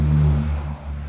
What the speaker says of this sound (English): Sorry about the car going by.